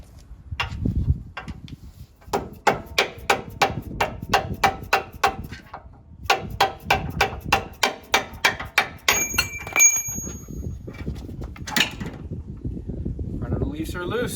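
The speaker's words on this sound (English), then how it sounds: "Let's see if we can't drive this bolt out." A large bolt is hammered out of a lifted Ford Excursion's suspension with repeated sharp metallic blows in quick runs, loud and close, with brief pauses between bursts.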